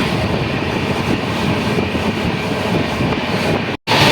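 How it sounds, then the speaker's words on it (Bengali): A sleeper class train on the Howrah to Dehradun route pulls away from a station toward the next junction, giving a dense, steady roar of carriage and track noise that cuts out briefly near the end. "ট্রেন এখানে 10 মিনিট হল্ট করে আবার রওনা দিল পরের জাংশনের উদ্দেশ্যে।"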